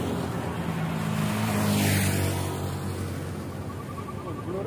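Truck passing on a road at Salagedang near Garut, a broad engine and tire rumble that swells to a peak mid-way then fades, heard from inside a moving bus with a steady background drone.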